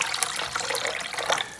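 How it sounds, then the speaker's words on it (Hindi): Roughly half a litre of water is poured into a kilo of flour for pizza dough, giving a continuous close splashing trickle for a brief moment with no talking. "अब इसमें तकरीबन आधा लीटर पानी और ऐड किया"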